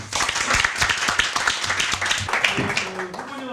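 A meeting audience at a youth forum gives a round of applause, scattered close hand claps at an irregular pace, with a voice speaking over them toward the end.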